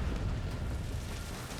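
Heavy, rumbling explosion from a missile bringing down an enemy bomber in Ace Combat 7, a dense low roar that sustains at steady loudness without a sharp onset.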